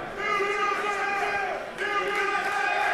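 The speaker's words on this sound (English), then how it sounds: "As you can hear the crowd chanting future champ" Wrestling crowd at a Smash Wrestling event chanting "future champ" for wrestler Jim Stryder, a loud sustained chorus of many voices in a rhythmic chant, briefly dipping then resuming.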